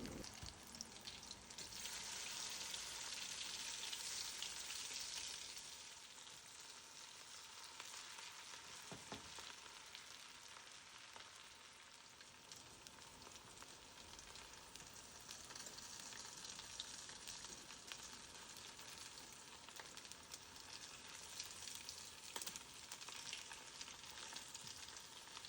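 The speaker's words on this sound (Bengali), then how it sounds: "এখন হচ্ছে কাবাবটা আমি ভেজে নিচ্ছি। আর এটা হচ্ছে আমি একদমই হাই হিটে ভেজে নিচ্ছি" Kebabs fry on high heat in a pan, giving a soft but continuous oily sizzle that swells briefly early on, heard alone without voices.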